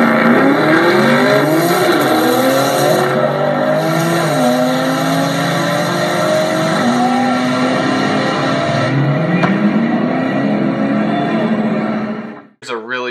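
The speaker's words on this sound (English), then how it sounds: "I love the sound of this car." A race car's engine revs up and down through repeated gear changes while accelerating hard, loud and close throughout, ending with a brief drop and a short rev.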